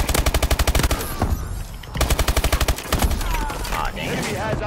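Automatic weapon fire from a Call of Duty: Advanced Warfare multiplayer match, loud rapid bursts in two clear volleys separated by a brief lull, with in-game announcer voices and other game noise over and between them.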